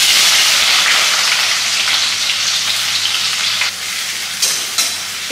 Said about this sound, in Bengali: তেলের মধ্যে আমি পেঁয়াজটা দিয়ে দিই।